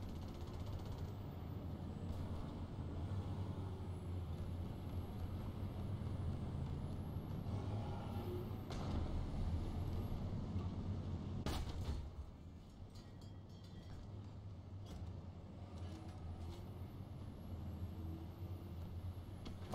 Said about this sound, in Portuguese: Tá ouvindo o ronco de motor?